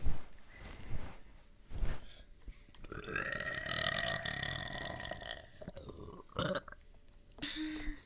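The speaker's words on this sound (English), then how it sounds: "I need a burp again." A person lets out a long, loud, drawn-out burp close to the microphone, framed by a few shorter gulping and throaty sounds before and after.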